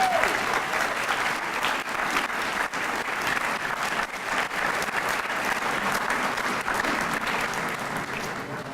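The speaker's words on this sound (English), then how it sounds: "How about a big round of applause?" Sustained audience applause fills a homecoming luncheon hall, a steady dense wash of many hands clapping at moderate distance, holding evenly throughout with little variation.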